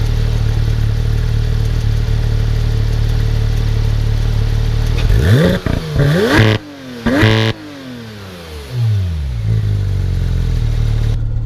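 A loud Porsche GT3 engine idles steadily, then revs hard several times, pitch climbing and falling with brief gear-shift pauses before settling back to idle.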